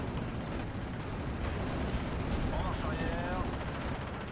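In the WWII strategy game Steel Division: Normandy 44, a Pak 40 anti-tank gun fires amid a dense, loud, continuous din of battle gunfire and explosions that runs through the whole stretch.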